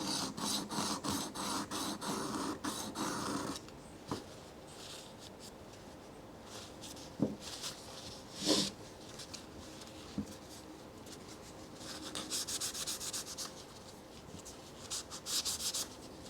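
Burr being scraped off the back of a printmaking plate, faint close rubbing and scratching strokes, denser at the start and in later bursts, with a few sharp taps between them.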